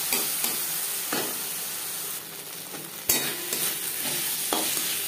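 Ginger paste and green chili paste stir-fried with onions in a pan for a rohu fish and eggplant curry, giving a steady close sizzle with repeated scraping strokes of a spoon, and no talking.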